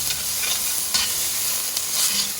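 Tomato paste and vegetables sizzle steadily in a hot pan as they are stirred, a dense continuous frying hiss with a few sharper scraping stirs, close and fairly loud, with no talking.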